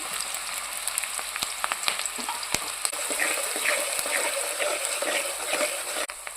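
Onions frying in hot oil in a pan for a chicken gravy curry, a steady dense crackling sizzle with scattered sharp pops throughout, close and fairly loud, with no talking.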